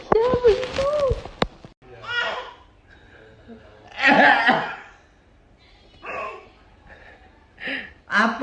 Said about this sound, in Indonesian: Apa batuk, kakek batuk?